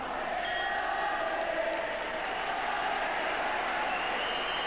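A boxing crowd in Glasgow's Kelvin Hall at a 12-round bout roars and applauds in a steady, dense wash of cheering. The noise stays loud and continuous throughout.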